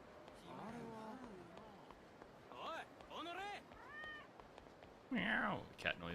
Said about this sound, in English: Meow. Cat noise.